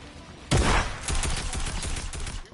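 Rapid video game gunfire bursts out in a loud volley, then continues as a quicker string of shots that fade and return, close and dense throughout.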